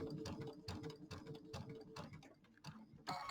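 A sewing machine stitches pieced quilt fabric in short bursts, its rapid needle chatter starting and stopping in quick runs at moderate closeness without any voices.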